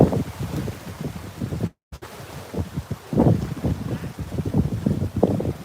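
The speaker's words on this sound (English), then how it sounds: "All of a sudden, it is horribly windy and crazy out here." Strong wind at a beach buffets the microphone in gusty, rumbling bursts, with a brief dropout partway through and churning water or boat noise beneath.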